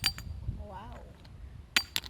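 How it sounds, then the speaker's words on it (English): High-silica comendite rock pieces struck together give sharp, glassy clinks, a couple at the start and two crisp, bright knocks near the end, with a voice murmuring briefly in between. "because it's high in silica, it sounds like glass. So listen to this."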